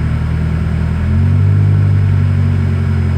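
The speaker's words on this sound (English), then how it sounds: "a test to see if it's worked is to see if the car revs more responsibly than it used to" A Nissan Sentra fitted with a new lightweight crank pulley revs up close by, its steady engine drone stepping up in pitch and loudness about a second in and holding there.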